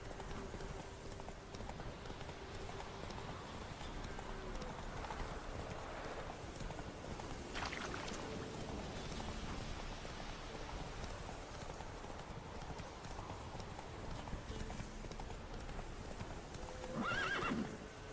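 Hooves of a horse clip-clop steadily throughout in The Witcher 3 game, with a whinny near the end; a voice speaks briefly over it.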